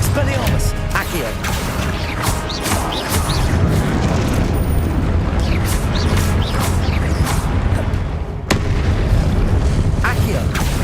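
Confringo blasting spells go off in Hogwarts Legacy, making repeated booming explosions within a loud, continuous spell battle, while a voice calls out spell names throughout.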